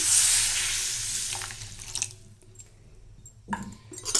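A steady stream of water pours loudly into a cooking pot of kurma with roasted gram flour, then thins to trickles and drips, followed by a few clinks and a short splash.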